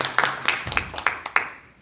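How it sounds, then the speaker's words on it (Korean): Scattered handclaps from an audience at a medical seminar on medical disputes in Gangwon-do, a few sharp claps spaced irregularly through the short moment, moderately close and fading toward the end. "큰 박수 부탁드립니다"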